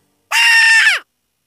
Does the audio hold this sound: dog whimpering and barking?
no